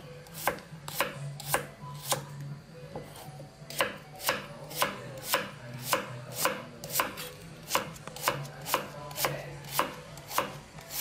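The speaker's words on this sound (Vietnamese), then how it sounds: "Sau đó băm nhỏ ra." Knife chopping two shallots into small bits on a board, a steady series of sharp, close taps at a brisk, even rhythm with no talk.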